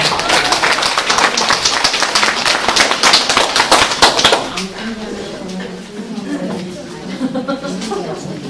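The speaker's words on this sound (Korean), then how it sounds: "조금 박수 부탁합니다" A crowd at a training session claps in a dense burst of applause for about four seconds, then it dies away and talking continues over a quieter room.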